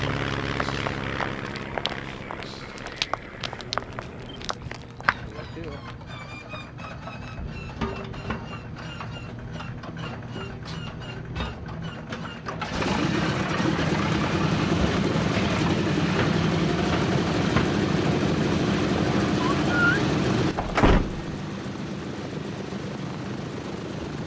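An airplane engine effect from a 1940s radio comedy, set during plane boarding, drones continuously with a propeller-like roar. Clicks and rattles sound early on, then the drone swells louder partway through.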